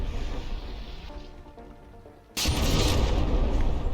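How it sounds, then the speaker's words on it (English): Heavy ship guns firing in a From the Depths battleship battle, a dense rumbling barrage that sharply jumps to a loud, sustained roar of explosions partway through. "Those guns pack some powerful explosions."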